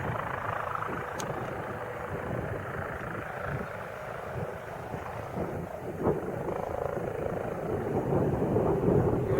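A distant aircraft landing near the airport around Front Royal, heard outdoors as a steady, broadband rumble that swells slightly toward the end.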